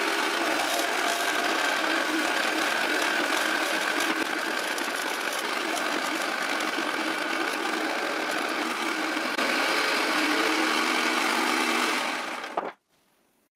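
Wooden planks for a workbench leg vise being cut with a power tool, a loud, continuous whine and rasp running steadily for about twelve seconds before cutting off abruptly, with no talk.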